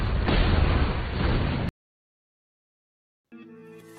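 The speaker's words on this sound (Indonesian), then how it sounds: "Santo pun meledakkan sebuah bom yang telah ia simpan di dalam mobil" A bomb hidden in a car explodes in a film scene as one loud, dense blast lasting over a second that cuts off abruptly into silence, before a few sustained music tones.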